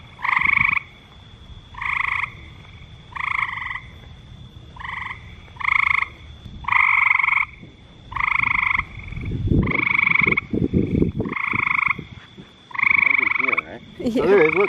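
A small frog at the Valley City frog jump croaks close by in about a dozen evenly spaced nasal bursts, roughly one per second, with some brief rustling handling noise between calls.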